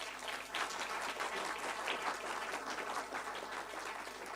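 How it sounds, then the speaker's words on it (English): An audience at a book launch gives a steady, sustained round of applause, a dense wash of many hands heard from a little distance, fairly soft overall, with no clear voices over it. "A big round of applause to her, please"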